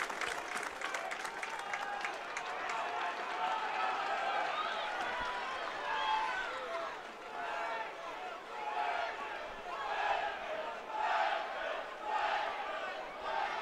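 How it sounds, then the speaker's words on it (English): Stadium crowd noise from the terraces at a pre-season friendly rugby league match between Wakefield Trinity and Wigan Warriors, a steady roar of voices and applause swelling and easing throughout. "Good crowd on the West Terrace."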